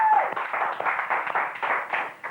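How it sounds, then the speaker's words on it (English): Studio audience clapping on a British TV entertainment show, steady continuous applause of a crowd at moderate distance, no talk over it. "I love these people that clap"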